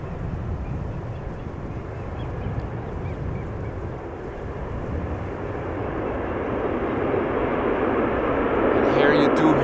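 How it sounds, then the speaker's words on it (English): A large airliner lands at Amsterdam Schiphol as reverse thrust comes on, a broad distant roar that grows steadily louder and fuller over several seconds. "And here you do hear the reverse thrust being applied."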